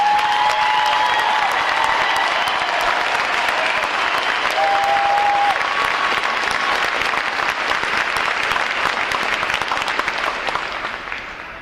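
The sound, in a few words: applause for graduating recruit divisions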